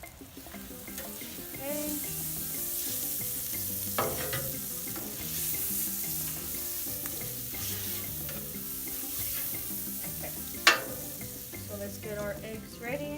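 Smoked lamb omelettes frying in butter in a pan, a continuous crackling sizzle close by with a few stirring scrapes and a sharp clank near the end, while a person speaks briefly.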